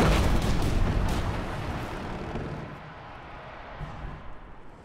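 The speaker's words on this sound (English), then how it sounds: "Why are you guys shooting at the freaking wall?" Heavy gunfire and explosive blasts from a Killzone Shadow Fall team deathmatch on the Remains map, a dense loud roar of shots that fades over a few seconds into a quieter rumble with scattered pops.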